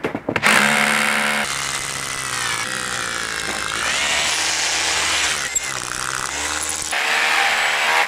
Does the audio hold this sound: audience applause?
no